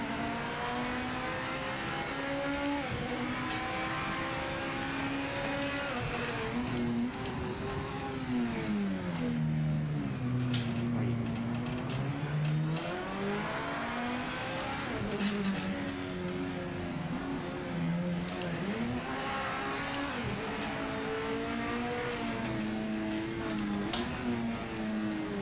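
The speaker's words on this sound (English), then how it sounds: "I like the sound of this car." Race car engine in Project Motor Racing 2.0, revving continuously with pitch rising and falling through gear changes and braking, loud and close throughout with occasional tire squeal.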